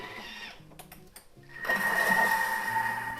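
A Thermomix TM6 whirs as it warms spices, starting with light clicks and knocks, then rising into a steady motor hum with a high whine that continues to the end.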